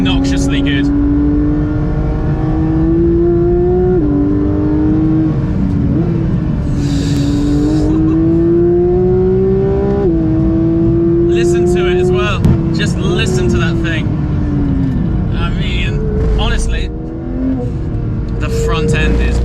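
Porsche 992 GT3 engine revving hard on throttle, its rising harmonic whine climbing and dropping through repeated shifts, loud and close throughout with brief sharper bursts near the end.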